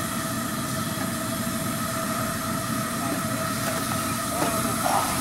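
Two Shay steam locomotives being switched around on a private railroad, giving a steady, loud mechanical rumble with hiss and faint rail squeals and clanks building toward the end.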